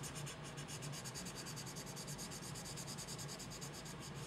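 Steady, continuous rubbing and pressing of paper against an inked plate while pulling a transfer monotype print, a close, even scratchy friction with fine rhythmic strokes and no voices.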